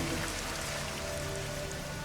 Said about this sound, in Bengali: অস্বাভাবিক বৃষ্টি গোটা কলকাতা শহর জুড়ে